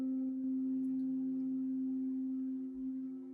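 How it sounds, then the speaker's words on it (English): A synthesizer in Ableton Live holds a pure, steady sine tone, a constant low hum that stays level throughout before cutting off at the end. "But they produce sine tones, so a very simple waveform."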